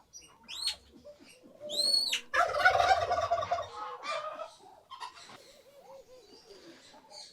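Turkeys and other poultry are let out of their coop on a winter morning, with loud repeated gobbles, a burst of flapping wings and clucking close by, then quieter calls continuing.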